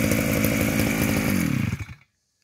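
A Shindaiwa S35 chainsaw engine runs loud and close at a steady high buzz for about two seconds, then cuts off abruptly into silence.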